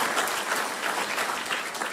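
Church congregation applauding during a sermon, a steady wash of dense clapping that holds evenly for the full two seconds with no talk over it.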